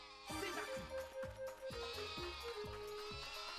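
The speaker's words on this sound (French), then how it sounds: "cassez-vous les moutons" Cartoonish sheep bleating in the Wii Party video game, several repeated bleats in a quick rhythm over bright game music, loud and close with no talking.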